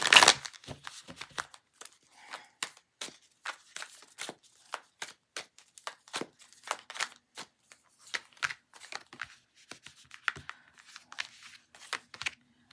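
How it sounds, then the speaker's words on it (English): Rapid crisp riffling and snapping bursts, repeated several times with short pauses, close and fairly quiet, like a deck of cards being shuffled. "Give it 3 shuffles."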